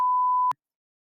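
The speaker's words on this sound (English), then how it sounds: "I have to beep that" A single steady censor bleep, a pure electronic tone lasting about half a second, covers a swear word. It cuts off abruptly into silence.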